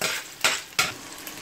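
Whole spices fry in hot oil in a pan for a sea bass fish recipe, giving a steady broad sizzle broken by two sharp louder bursts of spitting, close and with no voices.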